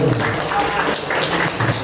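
Workshop audience applauds in a room, a dense wash of clapping from many hands at moderate loudness, with voices and chatter mixed in underneath.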